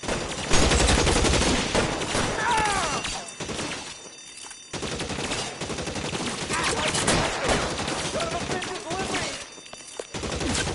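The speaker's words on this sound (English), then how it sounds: "I'll lay down some suppression fire." Steady suppressing gunfire in the crime game L.A. Noire, with dense overlapping shots and bursts running nearly continuously at close range, broken by a brief lull and fragments of other game sounds.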